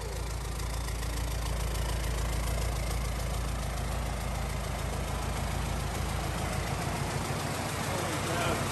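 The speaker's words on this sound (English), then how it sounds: "Check out the idle. We're gonna give you some idle noise." A 4BT Cummins diesel in the truck Mater idles cold just after its first start, a loud, close, steady rhythmic clatter and rumble that runs unbroken throughout.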